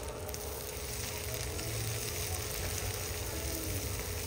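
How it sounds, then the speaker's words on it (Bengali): Chopped onions fry with cumin in hot oil, giving a steady, close, even sizzle with a soft crackle that holds throughout without pause and with no talk. "তো পেঁয়াজ কুচি, এটা একটু লাল লাল করে ভেজে নিচ্ছি।"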